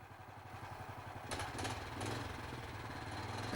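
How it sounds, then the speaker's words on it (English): A log winch engine runs at a steady mid-pitched idle, close and continuous, with some clattering bursts over the top as the throttle is worked. "And now we winch in the log."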